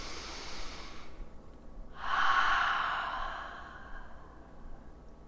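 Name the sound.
deep exhale through the mouth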